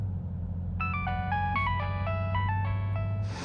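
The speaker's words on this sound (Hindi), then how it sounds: "तुम्हारा फोन बज रहा है, उठा लो फोन" A mobile phone rings with a bright, stepping electronic melody that repeats over a low steady hum.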